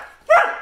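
A single dog bark, loud and close, ringing out sharply after a short near-silent pause and then fading.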